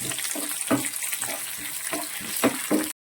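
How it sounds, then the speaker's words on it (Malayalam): Curry leaves and other ingredients sauté in a hot pan for a bread fry, giving a continuous oily sizzle broken by regular scraping stirs, before the sound cuts off abruptly into silence. "നന്നായിട്ട് സോട്ട് ചെയ്യാം ലേശം കറിവേപ്പില കൂടി ചേർത്ത് കൊടുക്കാം നന്നായിട്ടൊന്ന് മൂത്ത് വരട്ടെ"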